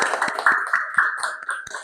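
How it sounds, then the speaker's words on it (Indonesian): Classroom applause from students, a short burst of irregular, fairly light claps with a soft tonal ring running underneath. "Baik, tepuk tangan. Tepuk tangan."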